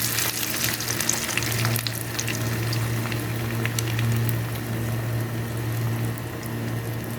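Noodles and egg fry in a pan over medium heat, a steady close sizzle with crackling spits and a low hum running underneath, continuous for several seconds.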